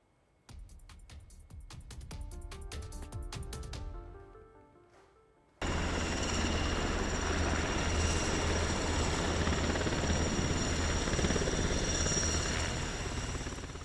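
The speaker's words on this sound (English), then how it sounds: "That's the sound of Black Hawk helicopters flying over Carmel." Indiana National Guard Black Hawk helicopters flying over Carmel, a loud sustained rotor and engine roar that sets in abruptly after a brief musical passage and holds steady.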